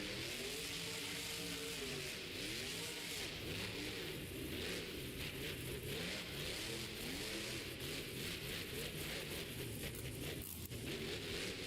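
Monster truck named Overboard revving its engine during stadium racing at a Monster Jam show in Detroit, a continuous loud engine roar with rising and falling pitch sweeps, heard steadily throughout without talk.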